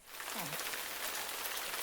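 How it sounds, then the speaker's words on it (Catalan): Heavy rain pours steadily as a sound effect in a classic Catalan children's story reading, a dense, even hiss of falling drops heard alone at low volume. "heus aquí que es posa a ploure molt fort"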